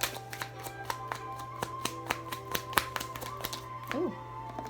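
Pure Love Oracle cards are shuffled by hand in quick succession, giving a steady run of crisp snapping and tapping clicks, close up, over a constant low hum and faint tonal background.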